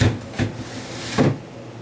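A refrigerator shelf is slid back into a fridge during a clean-out, making three short plastic knocks and clunks close by.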